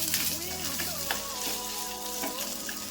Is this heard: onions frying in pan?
yes